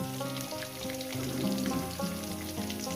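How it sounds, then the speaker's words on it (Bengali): Malabar spinach and pumpkin chochchori frying in a pan, a soft continuous sizzle and crackle, close and quiet, with a faint tonal hum underneath. "এবার এটাকে আমি সুন্দর করে চার পাঁচ মিনিট ধরে ভেজে নেব"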